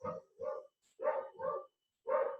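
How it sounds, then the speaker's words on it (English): An agitated pet dog barks five times close by, in two quick pairs followed by a single bark, with short silent gaps between them. "I'm listening to my dog bark."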